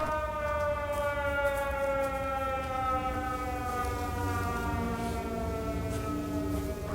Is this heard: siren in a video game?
yes